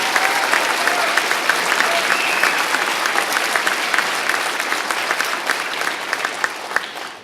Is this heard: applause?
yes